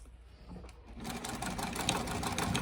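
A sewing machine runs a straight stitch through a leather bifold wallet, starting quietly and then chattering in a fast, steady rhythm close by.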